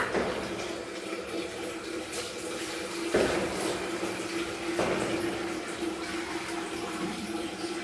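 A tap runs steadily as water fills a container in a home, a continuous rushing splash with a couple of brief surges in the flow.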